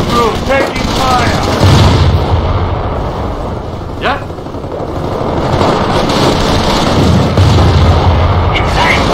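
Artillery cannon fire from a Company of Heroes battle, booming blasts amid dense gunfire and explosions, with voices calling out under the continuous loud combat din.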